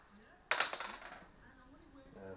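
Dice are rolled on a tabletop wargame table, a sudden clatter of several hard little impacts that bounce and rattle to a stop. The sound is close and fairly quiet, with faint voices in the background.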